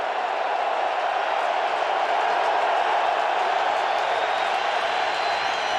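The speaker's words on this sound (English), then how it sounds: "Crowd has come to life." A large NFL stadium crowd at a Bengals versus Ravens game roars in a steady, broad wash of cheering that holds at an even loudness throughout, distant and unbroken with no distinct voices standing out.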